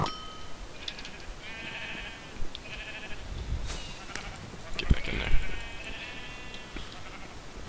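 Blocky sheep bleat in a Minecraft arcade minigame, several short wavering calls rising over game noise, with a player talking and a few sharp effect sounds around them.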